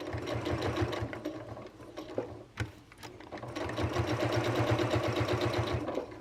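A sewing machine stitches a leaf garland in rapid, rhythmic bursts close up, running steadily, pausing briefly with a few clicks, then resuming its fast mechanical chatter.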